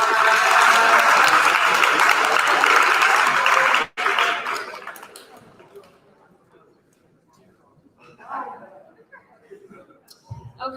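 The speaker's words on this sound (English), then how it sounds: "Join me in a round of applause." A school awards ceremony audience applauds loudly for several seconds, the clapping cutting off abruptly and giving way to quieter room murmur and scattered chatter, with a brief swell of voices near the end.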